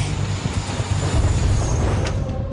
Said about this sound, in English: Driver Michael Hodder sees the approaching high-speed train and engages his brakes, but it's too late.